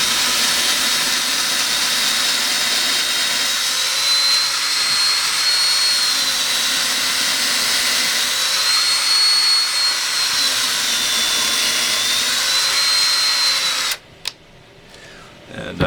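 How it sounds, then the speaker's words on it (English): A 3/8 inch drill bit bores a deep hole for a T-nut in a wood leg jig, a steady whining drone with slow rising and falling pitch for about fourteen seconds before the motor cuts off. "I put in my 3/8 inch drill, and I'm going to drill it in as deep as I can."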